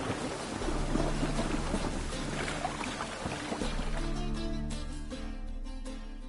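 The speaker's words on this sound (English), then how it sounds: "It's raining again." Steady rainfall in The Witcher 3, a continuous hiss of drops on water and surfaces with a low hum beneath, moderately loud and even throughout, with no voices.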